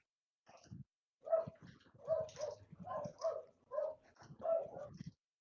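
Wolf in an online video game, a run of close, repeated barks and growls in quick bursts, fairly faint overall with brief gaps between them.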